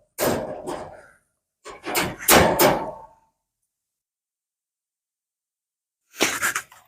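Wooden door on a barrel rabbit shelter being handled, giving a few knocking, thudding bursts in two groups, then another short clatter after a long silent gap, close and fairly loud.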